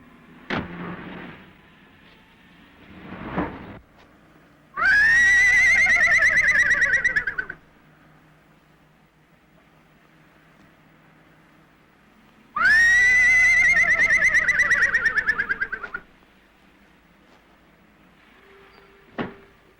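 A man imitates a horse whinnying for a film, two long, loud, shaky neighing calls separated by quiet stretches with faint knocks and background hum.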